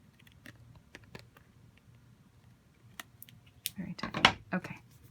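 Small scissors snip at the edge of an altered playing card, a quiet run of light clicks and handling followed by a louder cluster of close, crisp cuts near the end.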